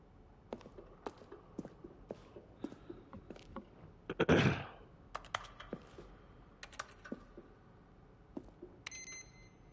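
Keyboard clicks from The Stanley Parable tap out in scattered, irregular keystrokes, quiet and close, with one louder burst of noise in the middle and no talking.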